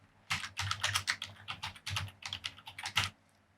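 Quick bursts of keystrokes on a computer keyboard as someone types a name into a condo seller disclosure form, close and crisp, in uneven clusters with short pauses between them.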